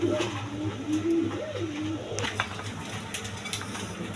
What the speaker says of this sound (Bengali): এখানে আকাশি কালার রাসগোল্লা কবুতর।